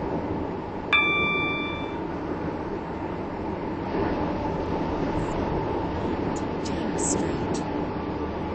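A Class 730 train stands at a platform in Roblox Stepford County Railway, a steady low rumble with a short chime near the start, while a recorded announcement voice speaks over it.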